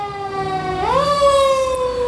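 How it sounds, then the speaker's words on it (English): A fire engine siren wails loudly and steadily, its tone sliding upward partway through and holding there, with no talking over it. "sounding sirens to monitor"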